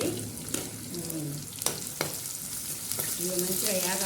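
Onion pieces frying in a pan with cumin and curry leaves sizzle steadily and close up, broken by sharp scrapes and clicks of stirring.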